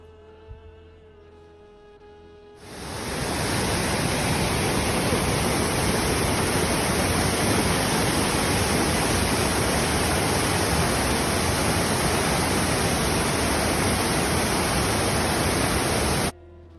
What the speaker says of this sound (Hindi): गणेश पार्क के बाद आपको गणेश गुफा के पास ये पानी का झरना मिलेगा।